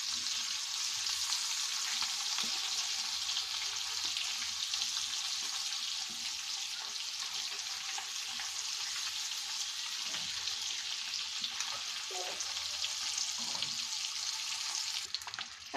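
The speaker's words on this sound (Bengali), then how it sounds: "ডিমটাকে হালকা ভেজে নেব, বেশি ভাজা যাবে না।" Egg frying lightly in a pan for an egg and potato mash, a steady broadband sizzle running throughout, close and even, with occasional faint clinks of a utensil and no talking.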